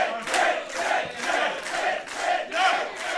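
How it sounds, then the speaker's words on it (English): A pro wrestling crowd at a live independent show cheers and chants in rhythmic, swelling waves, loud and close, with no commentary over it. "the crowd is very happy at that revelation"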